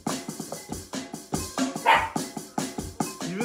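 Dogs bark repeatedly in short, rhythmic yaps over a steady musical groove, with one louder, higher bark standing out midway through.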